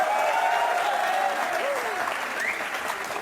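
Steady applause from an audience fills the whole clip at an even, moderate level, with a faint tonal sound sliding through the clapping.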